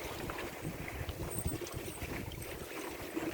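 A sailboat under way on open Caribbean water, with steady wind rush and sloshing water against the hull, continuous and fairly close, with no voices.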